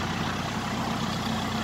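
Tractor with a 92.5 horsepower Perkins engine running steadily, a dense, low diesel rumble heard up close and unbroken, with no speech over it.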